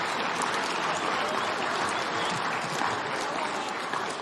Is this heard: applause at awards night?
yes